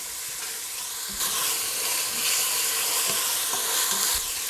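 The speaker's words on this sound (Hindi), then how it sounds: "अदरक डालेंगे, इनको मिक्स कर लेते हैं और साथ में थोड़ा सा भून भी लेते हैं।" Ginger being stirred and roasted in a hot pan for Punjabi-style kadhi pakora: a continuous close sizzle with scraping spoon strokes throughout.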